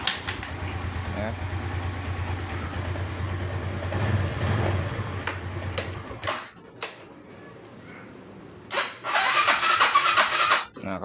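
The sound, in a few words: Suzuki Skydrive scooter engine being kick-started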